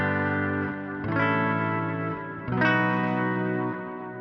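Barre chords on an effects-laden electric guitar, a run of three or four chord changes strummed one after another, each ringing with chorus-like shimmer and sustain.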